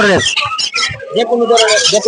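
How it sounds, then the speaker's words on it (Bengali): High chirps and tweets from several small caged baby birds at a bird market ring out close by in quick, overlapping bursts, with a voice mixed in. "অনেক সুন্দর পাখির বেবিগুলো"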